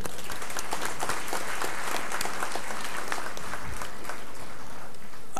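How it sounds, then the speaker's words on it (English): Auditorium audience at a first-year inauguration ceremony applauding a speaker, sustained loud crowd clapping with dense overlapping hand claps throughout. "let us all join together in giving an applause to Dr."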